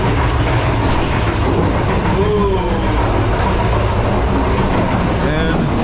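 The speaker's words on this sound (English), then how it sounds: "We're crossing over the tracks." Loud, steady rumble of an overnight passenger train running across rail joints and crossings on the way to Lahore, heard from inside a cabin, with a continuous roar and faint clatter, and people talking over it.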